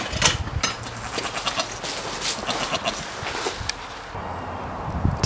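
Goats in a farmstead pen bleating several times at close range, mixed with light rustling and shuffling movement, with no talking.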